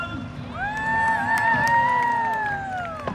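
Spectators at a freestyle ski jumping show cheer, with a couple of long, bright whoops riding over a moderate crowd roar that builds and then tapers off.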